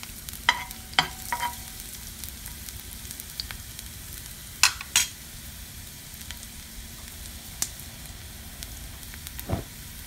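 Garlic sizzles in hot extra virgin olive oil in a pan, a soft steady frying hiss broken by a few sharp clinks and scrapes of a utensil against the pan.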